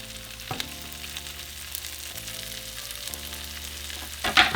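Onion and poblano chiles fry in hot oil with a steady close sizzle, a few soft knocks from stirring, and a louder crackling burst right at the end.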